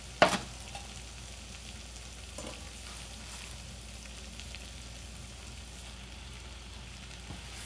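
Chopped vegetables and spinach sizzle softly in a pan, a steady gentle frying hiss with a few clinks and stirring knocks scattered through.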